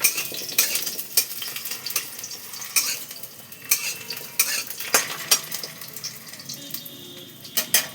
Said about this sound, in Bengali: এই যে গাঁটি কচুটা আগে দিয়ে দিলাম, এটা একটু ভাজা হলেই তারপরে আমি বাকি সব সবজিগুলো দিয়ে দেবো।